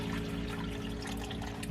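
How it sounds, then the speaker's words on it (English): Water poured to top off a pet snake's water dish in its enclosure, a steady close trickle running without pause under a low background hum. "Top off the water."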